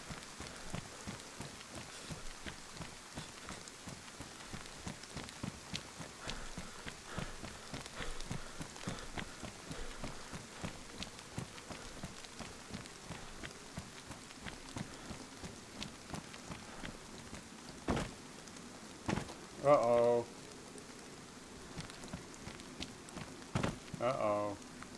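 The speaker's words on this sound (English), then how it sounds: "Is the rain stopping?" Rain falls steadily in the survival video game DayZ, giving a continuous patter throughout, with a few louder thuds and brief bursts of other sounds near the end.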